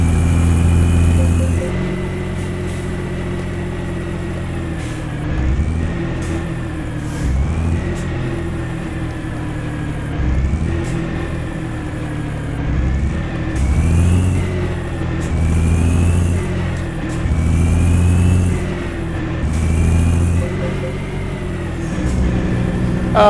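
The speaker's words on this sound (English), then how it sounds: "the truck's running a Cat engine, 550 horsepower." Freightliner truck with a 550-horsepower Cat engine in Euro Truck Simulator 2, a loud continuous diesel drone with gear-shift rises and dips in pitch as it accelerates and cruises.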